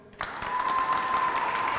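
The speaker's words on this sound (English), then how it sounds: "Because I really love applause" An audience at a graduation ceremony breaks into applause after a brief quiet moment, and the clapping continues as a dense, steady wash until the end.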